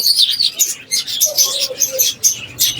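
Lovebirds at the Bamongachi bird market chirp loudly and close by in rapid, overlapping high tweets and squeaks.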